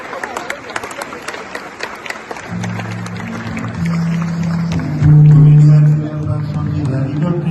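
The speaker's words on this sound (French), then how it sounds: "sous vos applaudissements déjà." Audience applause at a university ceremony in Limonade, a dense patter of many hands that is loudest at the start, then continues under a steady droning tone and crowd noise.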